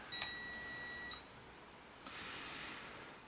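A short burst of high electronic beeping, a steady tone lasting about a second, then a fainter hiss of background noise.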